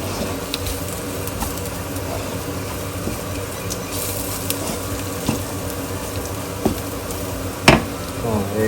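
Coriander powder frying in a pan for Kerala-style beef fry: a steady, dense sizzle throughout, close-up, with occasional soft scrapes and clicks from stirring.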